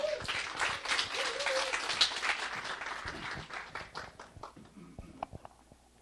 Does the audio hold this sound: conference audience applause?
yes